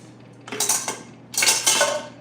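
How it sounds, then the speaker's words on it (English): Dishes being unloaded from a dishwasher make two bursts of clattering plates and jingling cutlery, close and fairly loud, separated by a brief quieter pause, with no talk. "I need to take the dishes out of the dishwasher"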